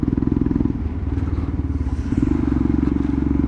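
Royal Enfield Himalayan motorcycle riding in fourth gear, with a steady low engine thrum and rhythmic pulsing under wind and road noise, heard close from the rider's position.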